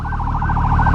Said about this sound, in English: now I'm about to get run over by an ambulance